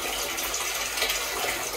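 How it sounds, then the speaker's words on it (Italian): Water runs from a hose into a tank, a 4-hectolitre barrel for a Landini 2-55 tractor, as a steady, even hissing gush of moderate loudness that continues unbroken, with no voices. "mi sono collegato poi al tubo e semplicemente niente, va l'acqua ta ta ta ta ta, e poi mi va dentro la cisterna"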